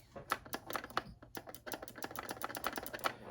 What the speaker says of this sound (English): Got your bolt action bolt there, along with ball detent to make it nice and clicky